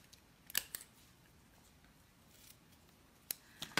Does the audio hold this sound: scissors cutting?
yes